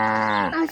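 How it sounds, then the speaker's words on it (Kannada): A single drawn-out cow moo sounds close and clear, falling slightly in pitch before ending with a brief, higher tail. "ಹಸು ಕರು."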